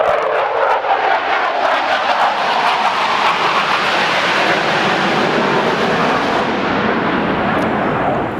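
CF-18 fighter jets roar overhead at the Toronto Airshow, a loud, sustained broadband jet rumble that holds steady for the whole stretch with no voices.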